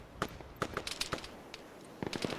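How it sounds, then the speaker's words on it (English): Gunfire in the military video game Arma 3: scattered, sharp cracks that come in a quick irregular cluster, then pause and return in a second burst, faint and distant with no voices. "they hear those gunshots"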